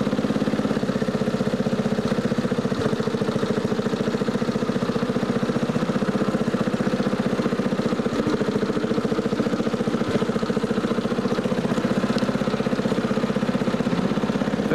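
A barn-find tractor mower engine runs steadily in fifth gear, a loud continuous close-up mechanical drone with a fast even chug throughout and no speech.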